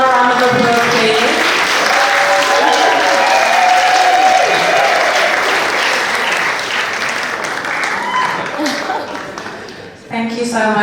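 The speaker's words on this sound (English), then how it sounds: "Another round of applause, please." Loud, sustained applause from wedding guests at a reception during the speeches, with cheers and voices mixed in, fading toward the end.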